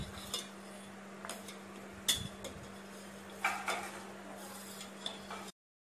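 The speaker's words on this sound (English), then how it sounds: "Mix the entire content." Pudding ingredients made with colostrum milk are mixed in a bowl: a few sparse clinks and scrapes of a utensil against the bowl over a low steady hum, quiet and close.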